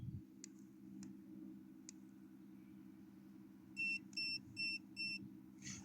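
A bait boat's remote control gives a few soft clicks, then four short, evenly spaced electronic beeps in quick succession, clear and close over a low steady hum.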